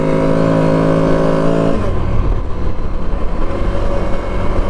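A 2025 CFMoto CForce 1000 Overland ATV engine drones steadily at a constant pitch while riding, then shifts into a rougher, broader roar as the load changes, loud and close throughout.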